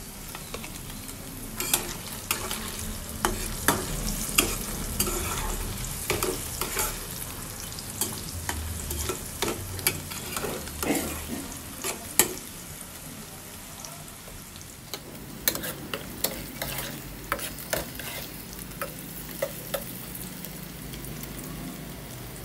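Paneer fries in a pan with salt and turmeric, a continuous close sizzle punctuated by frequent clicking, scraping stirs throughout.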